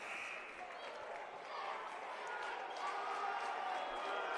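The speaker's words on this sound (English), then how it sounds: "The whole crowd is applauding." A crowd applauding at a high school boys varsity basketball game, a steady wash of clapping and cheering from the student section that swells slightly and holds throughout, heard from a distance.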